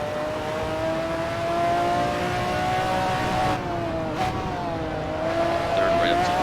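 In Assetto Corsa, a McLaren F1 GTR racing engine revs hard up to the limiter in third gear, its tone climbing steadily with a brief dip partway through before it rises again.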